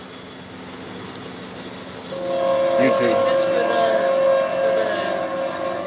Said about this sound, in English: You're filming the train?